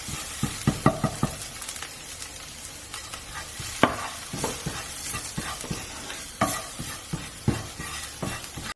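Beef and black pepper stir-frying in a pan: a steady sizzle under repeated scraping, tossing clatters of a spatula against metal, irregular and close, with no voices.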